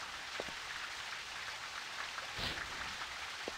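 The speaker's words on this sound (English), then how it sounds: "it's raining inside the castle" Faint steady hiss of rain falling indoors inside a castle in Ultima IX, a dense even patter with a few soft drips and one brief louder splash, and no voices.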